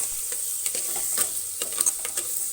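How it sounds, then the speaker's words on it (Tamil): Onions being sautéed in a pan for gongura pachadi: a steady close sizzle broken by quick scraping stirs and small pops, with no voices. "நல்லா டிரான்ஸ்பரண்ட்டாக ஆகிற வரைக்கும் நல்லா வதக்கணும்."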